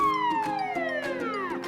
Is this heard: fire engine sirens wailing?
yes